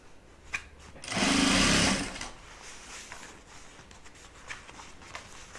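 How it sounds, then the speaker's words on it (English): A sewing machine back-stitches a bag seam for a zip double pouch, running in one steady, loud burst of under a second amid quiet handling noise, with no voices. "Back stitch."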